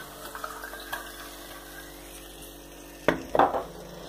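Water poured into a pan of hot caramelized sugar and brandy for Serbian mulled rakija, bursting into a sharp hiss and sputtering sizzle over a low simmering background.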